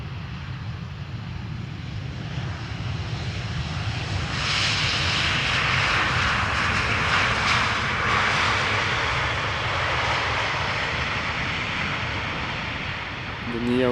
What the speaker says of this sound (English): an EasyJet A320neo arriving from Geneva, touching down on Polderbaan